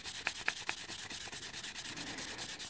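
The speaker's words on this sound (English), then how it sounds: "all you need to do is just run your wet and dry around the piston like that. This is P800 grit" Fine P800 wet-and-dry sandpaper rubbed around the piston of a Yamaha TDR rear brake caliper, giving a soft, steady close-up scuffing with a few sharper strokes near the start and no talking.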